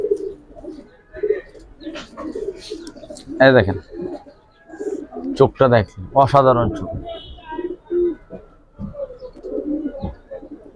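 Pankhi and giribaz pigeons coo softly in low, rounded bursts, heard close by beneath someone talking over them.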